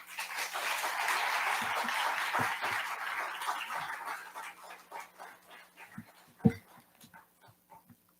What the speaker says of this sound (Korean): 우리 나오실 때 우리 큰 박수로 환영해 드리도록 하겠습니다